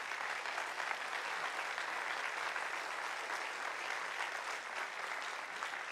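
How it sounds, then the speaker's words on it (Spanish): A church congregation at a Baptist service applauds steadily and loudly throughout, a dense, continuous wash of clapping with no voices standing out. "Dale un aplauso al Rey de Gloria."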